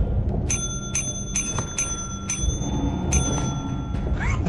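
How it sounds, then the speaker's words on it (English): Bell in the video game Lethal Company rung repeatedly, a series of bright metallic dings in quick irregular succession, about eight strikes over a constant low background rumble. "ring the bell a few times and he comes out faster"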